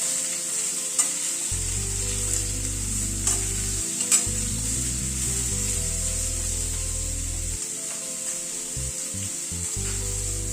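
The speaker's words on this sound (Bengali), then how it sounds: "এবার নুন হলুদ দিয়ে সবজিটাকে একটুখানি নাড়াচাড়া করে নেব।" Vegetables with salt and turmeric stir-fry in a pan for a dal, a steady sizzle running throughout with scraping stirring strokes and low hum, fairly close and moderately loud, no talk.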